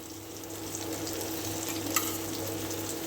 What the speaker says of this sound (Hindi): सोते हो रहा है मसाला